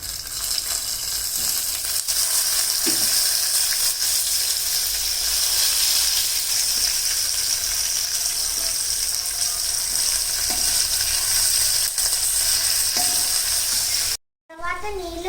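Green chili and ginger paste sizzles loudly in a hot pan, a steady dense frying hiss with faint stirring scrapes, broken by a brief drop-out near the end.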